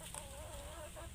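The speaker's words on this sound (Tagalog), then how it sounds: "meron kami isang tandang sa loob. And meron po kami dalawang manok." A rooster and two hens in a hog-wire breeding pen cluck softly, one short wavering call rising over faint background noise, with no one talking.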